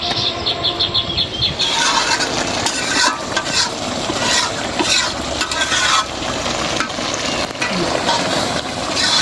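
Food being fried and stirred in a kadai (wok-style pan), a dense continuous sizzle with scraping stirring strokes, loud and close throughout with no talking.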